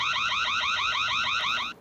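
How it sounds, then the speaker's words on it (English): Reolink security camera alarm siren, a loud electronic warbling wail repeating in rapid rising sweeps for under two seconds before cutting off abruptly. "smart object detection can be set to trigger the floodlight and an optional alarm just for humans"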